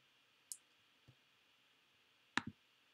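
Computer mouse clicking in a quiet room, a few sharp isolated clicks spaced irregularly over a faint background hum.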